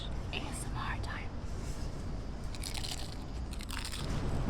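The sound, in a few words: eating crunchy ahi poke nachos from Cheesecake Factory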